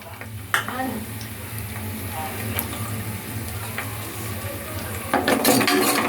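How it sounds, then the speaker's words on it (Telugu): Onions go into hot oil on a low-flame stove for boti curry: a steady low sizzle with scattered utensil clinks, swelling into a louder, brighter crackle near the end, close by. "ఆయిల్ వేడైన తర్వాత ఆనియన్ వేసుకుందాం ఫ్రెండ్స్"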